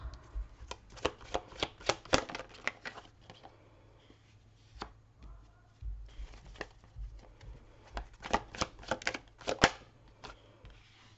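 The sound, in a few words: shuffling tarot cards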